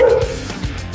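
A dog gives two quick, close yips or barks in succession over a low steady background hum.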